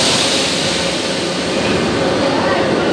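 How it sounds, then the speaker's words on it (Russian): Continuous loud roar of a Moscow metro train leaving the station, a broad, even rushing noise with no pauses, heard up close from the platform. "И уезжает тот, наш, на котором мы приехали."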